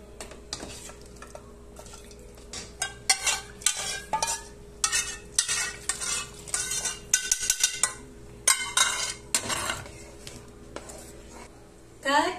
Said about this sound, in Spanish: Ahora sí lo vamos a revolver bien hasta que se disuelva